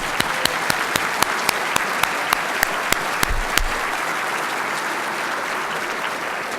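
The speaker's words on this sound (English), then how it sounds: "They get a bigger round of applause." Audience applause for graduates' family members at an awards ceremony, a broad steady wash of many hands clapping throughout, with a few sharper individual claps standing out early on.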